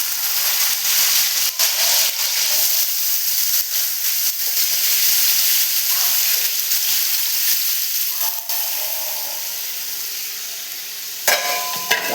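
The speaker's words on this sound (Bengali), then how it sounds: "এই আলু ভাজাগুলো কড়াইয়ে দিয়ে দিচ্ছি" Fried potato pieces tipped into a hot wok while making chow mein, giving a steady loud sizzle and hiss with occasional scraping stirs, easing off toward the end.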